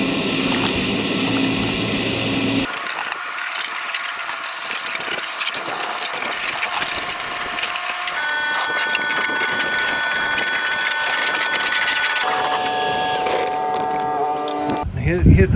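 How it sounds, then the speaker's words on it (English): A car trunk is vacuumed out before a fuel cell is fitted, with a continuous close whine and roar from the vacuum cleaner that shifts in pitch as the nozzle moves around. "Now I think we need to vacuum in here a lot."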